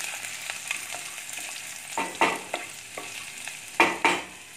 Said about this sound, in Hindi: अदरक लहसुन को डाल के थोड़ा फ्राई कर लेते हैं